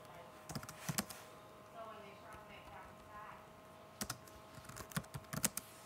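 Keys on a computer keyboard clatter in two short bursts of quick taps, entering text into a box in an office document, close and fairly quiet over a faint steady background hum.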